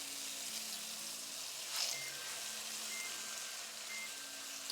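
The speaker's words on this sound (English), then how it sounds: "There's our timer for the sauce." Kitchen timer for the sauce chirping in short faint repeated beeps over a steady sizzling, frying hiss in a home kitchen.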